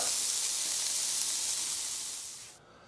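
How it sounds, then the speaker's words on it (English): Chicken smash burgers sizzle on a hot griddle, a steady loud hiss filling the clip before it drops sharply near the end to a faint quieter fry. "So let's let the other side cook just a little bit."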